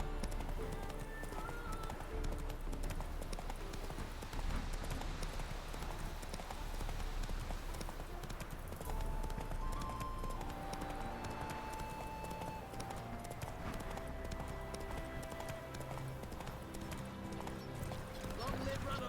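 Roach, Geralt's horse in The Witcher 3, gallops with steady clip-clop hoofbeats that run throughout, set against game music and ambience, with a short neigh and a voice speaking over it.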